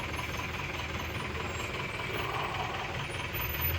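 Steady dense roar of heavy trucks jammed on a new bridge outside Villupuram at 2:30 a.m., a continuous low engine rumble with occasional knocking, unbroken throughout and free of talk.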